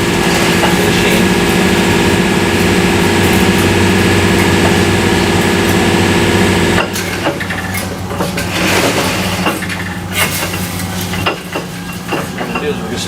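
A coil winding machine used to wind coils for a 125 HP electric motor whirs loudly and steadily with a constant tonal hum, then the sound shifts into rougher, clattering mechanical noise partway through.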